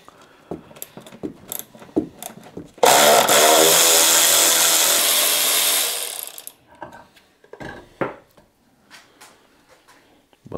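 A 10 mm upper shock absorber bolt comes out of a Volvo V under a power ratchet, a loud continuous buzzing whir for about three seconds between scattered metallic clicks and handling knocks.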